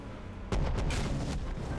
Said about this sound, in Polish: Walimy rakietami dalej.